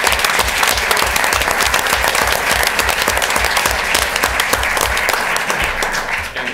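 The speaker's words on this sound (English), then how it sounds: "let's give you guys a round of" A room full of people applauds teachers at a school board of education meeting, with loud, dense, sustained clapping that continues without a break before tapering slightly at the end.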